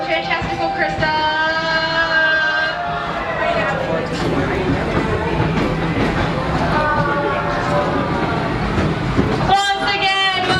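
Riding aboard the Wildlife Express train at a theme park's Animal Kingdom, with steady rolling rumble and rail noise throughout while voices talk and chatter over it.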